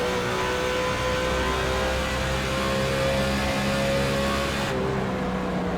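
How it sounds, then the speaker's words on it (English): Race car engine in an oval racing video game at Kentucky, a steady mid-pitched drone that dips as the driver lifts off the throttle, then cuts away near the end. "it's just him getting out of the throttle"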